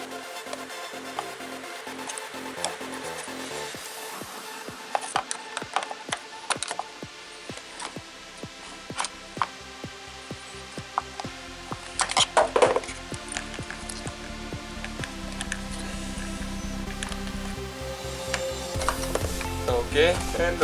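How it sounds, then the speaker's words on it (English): Flat screwdriver prying at the front clip of an Audi A4 B6, with scattered sharp plastic clicks, scrapes and small clatters, close and intermittent against a low hum. "with a flat screwdriver, you need to get there and kind of like pry it open"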